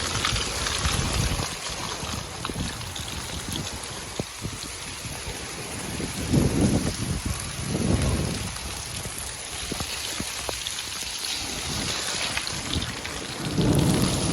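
Steady heavy rain pours in Gujarat with low rumbles of thunder rolling in several times, loud and close, with no voices.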